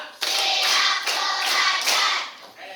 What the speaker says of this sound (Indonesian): Tepuk satu, dua, tiga, empat, tepuk lima.